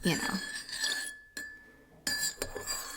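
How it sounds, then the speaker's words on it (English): A spoon stirs a drink in a glass, giving bright clinks and a sustained ringing tone with brief pauses between, close by, with a voice heard around the clinking. "Maybe I should stir it."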